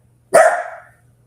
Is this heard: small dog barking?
yes